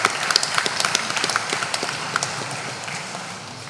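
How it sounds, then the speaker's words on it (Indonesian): Guests at a Catholic wedding ceremony applaud, a dense patter of many hands clapping that is strongest at first and gradually thins and fades, with no one speaking. "Kita berikan tepuk tangan yang meriah."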